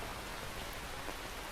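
Steady rain pouring in Metal Gear Solid 3D, a dense, even hiss of drops on surfaces filling the whole moment with no voices.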